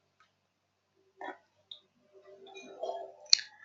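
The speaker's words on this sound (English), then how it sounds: "Right click and then run file." A single sharp mouse click stands out near the end, a brief bright transient after a few faint keyboard and desk noises; no one speaks.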